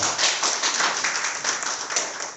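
A live seminar audience claps together for a few seconds, a dense, steady patter of many hands with no voices over it.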